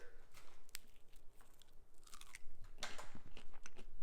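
Close-up crunchy chewing of baked french fries, irregular bites and crackling mouth sounds, quiet overall with sharper crunches toward the end.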